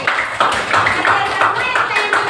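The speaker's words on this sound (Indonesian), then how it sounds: "Bagus, tepuk tangan untuk Sipa." Classroom applause, a steady patter of many hands clapping at close range that runs through the whole moment, with voices mixed in.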